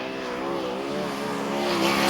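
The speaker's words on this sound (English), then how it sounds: "On the speedway now, Toowoomba's car number 58, Peter Lack." Sprint car number 58 roars around the Charlton Raceway speedway, its high engine note rising steadily in pitch as it accelerates on a hot lap, loud and continuous with no voices.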